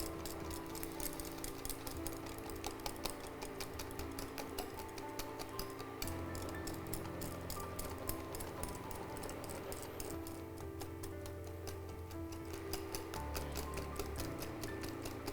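Jaggery and eggs are hand-beaten in a bowl, giving a steady, fast ticking clatter of the utensil striking the bowl that runs unbroken throughout with no voices.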